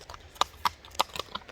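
Hooves of a purebred Karabair horse clip-clop on the ground in Özgön, Kyrgyzstan, with five or six sharp, close strikes in an uneven walking rhythm and no voices.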